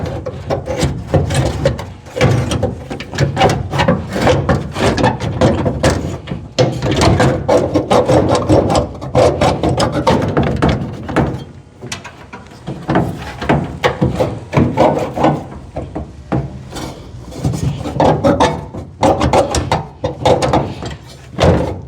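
A 1968 Camaro quarter window glass slides upward in its track on worn rollers, giving a loud, continuous grinding and scraping rub with uneven rattling pulses that runs almost unbroken for about twenty seconds, close up and without talk.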